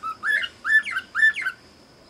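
Three sharp, squeaky chirps from a small wild bird visiting a garden feeder come in a quick, evenly spaced series, close and distinct against a quiet outdoor backdrop.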